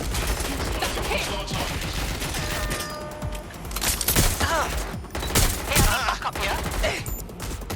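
Sustained gunfire in Watch Dogs Legion on PS5, a dense rattling fusillade of rapid shots that fills the whole stretch, loud and close, with a brief spoken call partway through.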